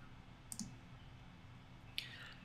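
Mouse clicks on the OK button in QTP testing software, two small, sharp clicks about one and a half seconds apart, over faint background hiss.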